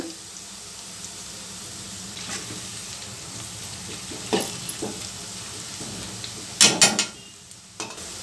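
Onion pakoda sizzle and crackle in hot oil on a medium flame, a steady low fry with a few louder pops and splashes toward the end.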